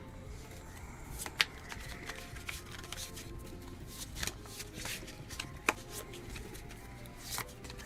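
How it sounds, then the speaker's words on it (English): Board game cards are shuffled by hand in quick riffling bursts with a few sharper snaps, close and fairly quiet, with no talking. "Shuffle time."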